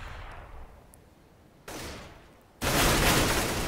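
P2000 pistol gunfire in Counter-Strike on the Cache map, a few sharp, close shots with the loudest burst at the end, set against low background game ambience.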